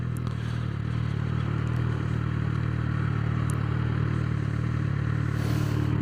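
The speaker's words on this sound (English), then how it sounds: "This is also a stock exhaust" A Suzuki GSX-R 600 motorcycle on its stock exhaust idles and runs steadily, a constant mid-pitched engine hum with faint clatter throughout.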